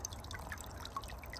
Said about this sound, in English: water fountain that we just installed